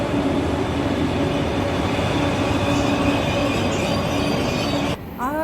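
A train on the opposite track rumbles past close by at a station with steady loud rail noise and wheel clatter, ending with a brief high squeal as it pulls away.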